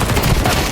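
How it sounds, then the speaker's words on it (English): Rapid automatic AK rifle spray in Counter-Strike 2, a loud, dense burst of continuous gunfire filling the whole moment without pauses. "the AK spray is successful from Wets"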